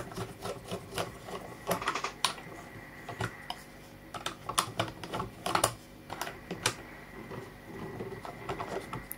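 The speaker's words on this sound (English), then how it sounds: "To take out the battery, you need to remove these screws." Screws come out of a Soloshot 2 camera base, heard as close, quiet irregular clicks, scrapes and ticks of a small screwdriver and parts, with no talking.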